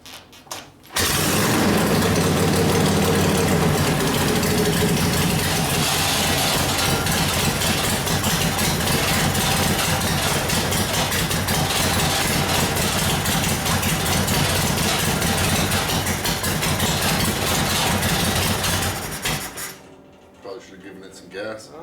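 A 1972 Harley-Davidson Sportster Ironhead engine cranks over and runs with a loud, steady, rough low rumble for about eighteen seconds, then cuts off abruptly, close by in a workshop.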